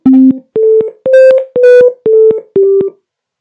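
A synthesized ringtone plays the Kartini tune as six loud, evenly spaced electronic notes, each a clean sustained tone with a short gap between them, heard alone.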